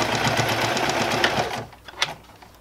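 Sewing machine stitching cloth period pads, a steady rapid mechanical whir that runs loud for about a second and a half, then stops, leaving a few faint handling clicks and a brief tap.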